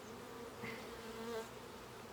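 Honeybees drone around an opened hive during an inspection, a soft steady buzzing swarm at low level, with a few individual bees passing closer and louder.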